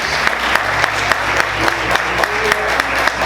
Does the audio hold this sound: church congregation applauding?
yes